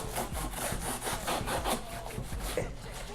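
Repeated rough scraping strokes of a knife blade cutting open a bullion shipping package, close by and steady, with a rhythmic back-and-forth sawing quality and no talk.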